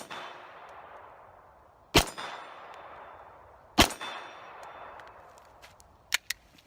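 Three sharp, loud pistol shots from FNP-45 and HK45C .45 handguns, spaced a couple of seconds apart, each followed by a ringing echo tail and fainter metallic clinks.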